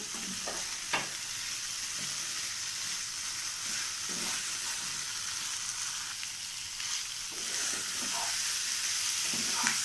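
Potatoes with salt frying in a pan and being stirred, a steady close sizzle with repeated scraping strokes of a utensil against the pan, no speech.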